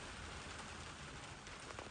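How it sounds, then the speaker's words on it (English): Rain falling steadily on a DIY truck camper at night, a dense, even hiss of drops drumming on the shell, continuous and fairly close with no voices. "I was not anticipating rain tonight"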